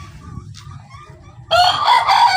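A bantam chicken crows loudly and close by in a single strained call that starts partway through, after quieter clucking and background chatter.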